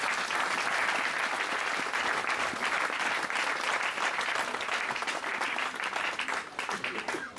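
A church congregation at a New Year's Eve service applauds the Lord with sustained, dense clapping and cheering that fills the room throughout.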